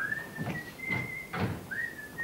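A man whistles a tune, a clear, sustained high note that holds, dips briefly and resumes, with soft thumps and shuffling beneath it.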